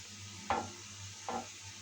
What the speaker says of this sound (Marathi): अशा प्रकारे असं करत पीठ ओतून हलवून घ्यायचं आणि हटून घ्यायचं आहे चीक.